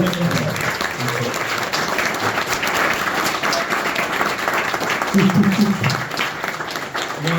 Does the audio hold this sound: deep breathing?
no